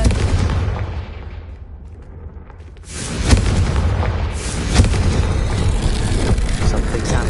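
A Confringo blast curse goes off in a Harry Potter video game, a sudden loud explosive boom that swells into a sustained roaring, rumbling wash with a second burst shortly after, following a quieter stretch.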